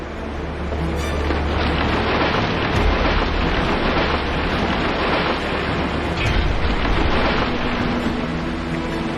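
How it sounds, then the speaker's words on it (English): A tempest over a town in the Comoro Islands pours heavy, constant rain with a deep rumble of thunder underneath, a dense and loud wash of sound throughout with no voices. "the tempest unleashed its fury right in the middle of town"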